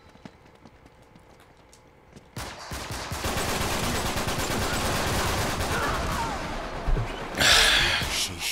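Gunfire in an Uncharted 3 multiplayer match breaks out after a quiet start into loud, dense rapid bursts that continue steadily, with a sharper surge near the end.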